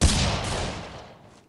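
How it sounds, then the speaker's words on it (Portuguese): Single gunshot in the first-person shooter video game Critical Ops, a sharp close crack followed by a decaying tail that fades out over about a second, with no talk over it. "Não, só dei um tiro, seu Kazê."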